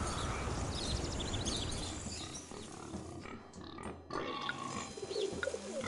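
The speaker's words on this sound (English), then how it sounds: "Come on, pigs, work with me here." Pigs grunt and oink among dense, noisy animal and ambient sounds in the island-building game Weizhou Island, a busy, continuous mix with brief louder bursts.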